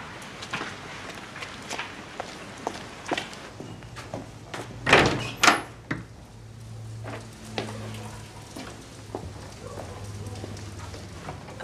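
A door is opened and someone walks through a bookshop, with a run of soft footsteps and a pair of sharp knocks or thuds partway through. Low hum sits in the background and light talk is faintly present.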